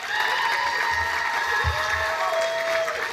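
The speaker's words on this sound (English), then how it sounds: "let's give her another round of applause" An awards dinner audience gives sustained applause mixed with some cheering, a dense, even wash of clapping from a large room with a few higher voices showing through.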